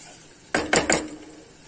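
Tarhana spooned into a soup pot in a home kitchen: three short clinking scrapes of a spoon against the pot in quick succession, close and fairly loud, then quiet.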